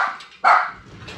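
A dog gives two short barks, the second louder and nearer, in a workshop setting during cab work on a big red vehicle.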